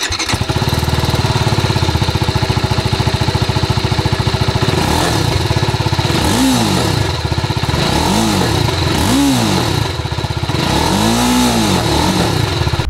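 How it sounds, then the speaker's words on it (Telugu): A 2025 TVS Apache RTR 310 motorcycle idles loudly and steadily up close, then its exhaust is blipped through four quick revs that rise and fall, with a final longer rev near the end. "ఈ బైక్ ఎగ్జాస్ట్ నోట్ ఎలా ఉందో ఒకసారి చూద్దాం"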